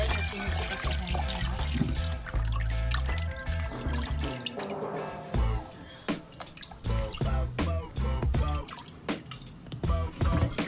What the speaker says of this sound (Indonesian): saya nyuci pakai air hangat